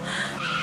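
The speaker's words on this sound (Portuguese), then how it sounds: "Eu tô ouvindo barulho de carro." A car pulling up outside a house, heard from indoors as a short, steady hiss of tyres and engine with a smeared, skidding tone, moderately loud and continuous for under a second, with no voices.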